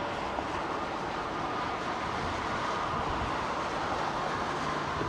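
Airbus A330 freighter taxiing at London Heathrow, a steady broad engine roar and whine holding at an even level throughout, with no break in the rumble.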